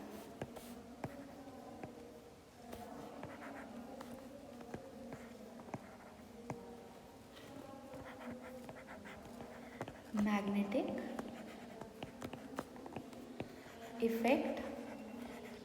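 Marker or chalk writing on a classroom board, with scratchy strokes running under a teacher's continuous speech and a few louder squeaks near the end.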